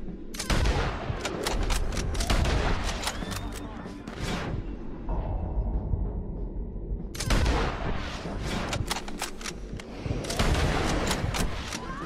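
Gunfire in Red Dead Redemption 2 crackles in dense volleys of sharp, close shots, easing into a brief lull before another rapid flurry of rounds.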